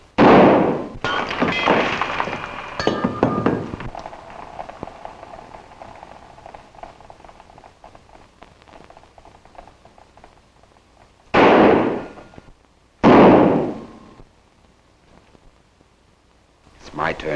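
Several sharp gunshot blasts from a 1941 western-era film, one cluster at the start and two loud separate shots near the end, with a man's dialogue filling the gap between them.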